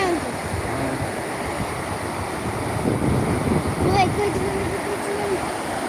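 Water rushes out of the opened Himayat Sagar reservoir gates in a steady, broad roar, with people talking over it.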